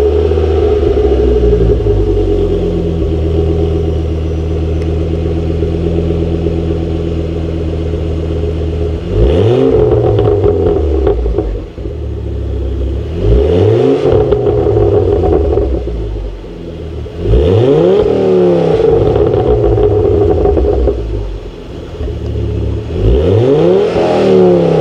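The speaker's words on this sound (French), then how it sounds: "le 5 cylindres, c'est un très très bon bruit" A Ford Focus ST's five-cylinder engine idles loudly and steadily, then is revved in four sharp blips spaced a few seconds apart, each rising and falling back to idle, close up.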